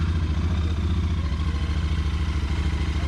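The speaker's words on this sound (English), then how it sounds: "To start the bike, we're going to flip it the ignition on, our run switch." A fuel-injected motorcycle idles close by after starting, a steady, fairly quiet low engine thrum with an even pulsing beat and a light mechanical clatter, and no talk.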